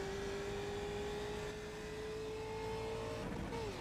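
A race car engine in the iRacing sim, a steady sustained drone with a clear tonal whine that holds pitch, then shifts up and drops briefly near the end, heard continuously at moderate level without talk.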